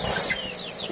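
Chickens cluck briefly up close, a few quick calls over a soft background hiss.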